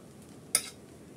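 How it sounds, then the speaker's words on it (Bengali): Fried rice ingredients with ghee are stirred in a pan, giving a single quick scrape and clatter of a spoon against metal over a faint background hum. "আমি সবগুলো একত্রে ভালো করে মিক্স করে নিচ্ছি।"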